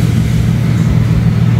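A BMW car exhaust fitted with a new resonator gives off a loud, deep, steady rumble, a sustained low drone held close up without any clear rise or fall.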